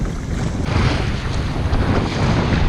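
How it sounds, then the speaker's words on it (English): Heavy, steady wind roars in stormy weather at an urban fishing spot by the water, loud and continuous across the whole moment with broadband gusting rumble and no voices. "the real heavy wind started"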